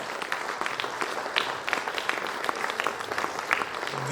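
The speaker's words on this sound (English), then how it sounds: "let's give a huge round of applause and a standing ovation to our chief guest of the event, Padma Shri, Dr. M.H. Mehta, sir" Audience applause at an HR-EHS conference in Vadodara welcoming the chief guest on stage: steady, dense clapping from a crowd, sustained for several seconds at moderate level with no talk over it.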